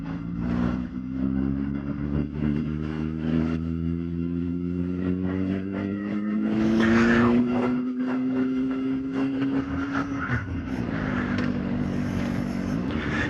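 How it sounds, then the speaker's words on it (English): A CFMOTO 750SR-S motorcycle idles in third gear at low revs, then the throttle is rolled on and off. The engine drones steadily, its pitch climbing slowly as the throttle opens, then surges and falls back, heard close with no talk. "third gear, low revs, idling, all the way off the throttle, on the throttle, third gear, all the way off the throttle, on the throttle"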